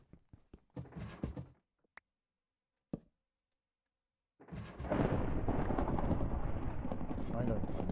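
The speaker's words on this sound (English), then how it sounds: "I don't understand any of these lightning strikes, and why does it keep happening?" Lightning strikes in Minecraft set off a sudden, heavy thunder rumble that roars loud and sustained for the last few seconds, after brief scattered clicks and a short stretch of talk-like sound.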